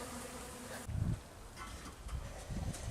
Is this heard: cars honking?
no